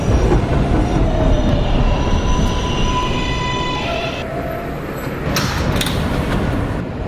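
Steady loud rumble and rail noise inside a moving N local subway train, with a squealing, whining tone over the continuous roar and no voices.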